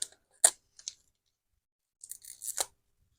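A few short, crisp ripping and crinkling bursts of tape being torn off packaging, close and quiet, separated by silence.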